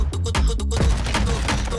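Rapid bursts of MP5 submachine gun fire in a shooter video game, dense crackling shots packed tightly together at close, loud volume with no pauses.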